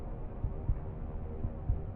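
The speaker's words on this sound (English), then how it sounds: "there's a heartbeat sound, very, very loud, just pounding away in this menu" Loud, pounding heartbeat in a Deus Ex video game menu: a steady double-thump rhythm of deep, low throbs repeating every second or so over a constant low hum, with no voices.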